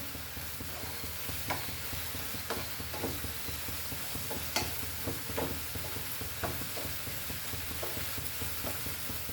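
Chopped parsley is stirred through butter garlic prawns frying in salted butter, giving a steady close sizzle with soft scraping stirs and light clicks from the utensil, no talking.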